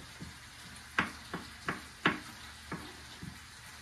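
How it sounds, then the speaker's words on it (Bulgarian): Chicken fillet frying in a pan gives a quiet sizzle with a handful of sharp, scattered pops and crackles, with no voices. "докато се пържи пилешкото филе"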